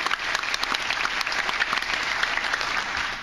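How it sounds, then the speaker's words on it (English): A crowd at a sponsor-recognition event applauds steadily and fairly loudly throughout, a thick, continuous wash of many hands clapping with no talk over it. "Nice round of applause for them."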